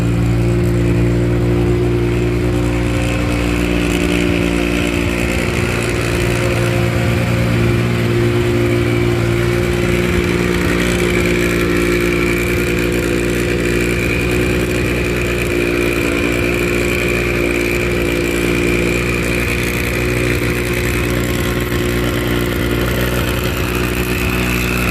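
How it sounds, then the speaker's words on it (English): A Porsche 962 race car engine runs continuously at a classic endurance race at Daytona, a loud, steady mechanical drone with a strong low hum and mild shifts in revs throughout. "They got this 962 started up."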